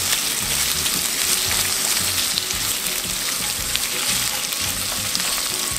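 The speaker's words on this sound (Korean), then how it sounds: "양파도 딱딱한 부분 먼저 넣어서 볶다가" Onions sizzle and fry in hot cooking oil in a pan, a constant loud crackling hiss with occasional stirring scrapes, close up and with no voices over it.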